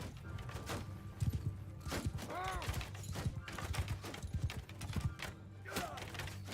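Cavalry horses galloping in Bannerlord, a busy stream of hoofbeats with whinnies and neighs rising through the mix, fairly faint and crowded by battle clatter.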